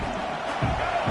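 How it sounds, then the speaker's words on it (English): Steady roar of a college football stadium crowd during an offensive drive, loud and continuous with swelling surges of cheering and yelling throughout. "This crowd trying to make life miserable for this offense."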